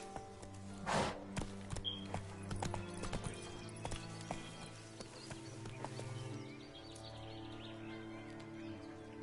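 Roach the horse gallops in The Witcher 3 with rapid rhythmic hoofbeats, a brief snort near the start and faint birdsong over a steady game music bed.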